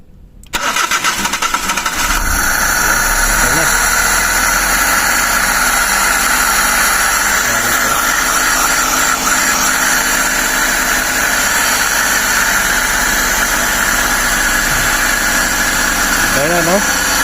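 A Suzuki Every kei van engine cranks at the start, then catches and settles into a steady, loud idle that runs on evenly to the end, with occasional faint tonal squeals over it.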